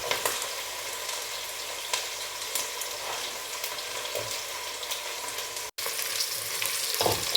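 Chopped onions sizzle in hot oil in a pan, a steady, fairly quiet frying crackle with occasional stirring clicks and no talking.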